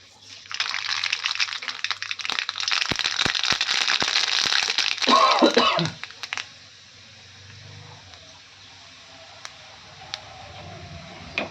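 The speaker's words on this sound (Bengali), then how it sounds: "আর দিয়ে দেবো কালো সর্ষে।" Black mustard seeds crackling in hot oil, a dense run of sharp pops and sizzle for about six seconds, close and loud, then settling into a faint hiss with a few scattered pops.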